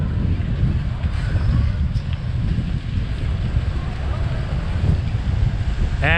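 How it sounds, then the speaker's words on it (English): Strong wind buffets the microphone in constant rumbling gusts on Scheveningen beach in The Hague, Netherlands, with a faint wash of surf underneath. "it's pretty windy here"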